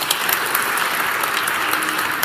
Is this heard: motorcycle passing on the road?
no